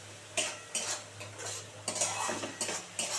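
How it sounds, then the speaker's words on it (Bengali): Spice paste for fish kalia is stirred and fried in a pan, with rhythmic bursts of spatula scraping and sizzle repeating roughly every half second over a steady low hum, close and moderately quiet. "ভালো করে মশলাটা কষানো হচ্ছে"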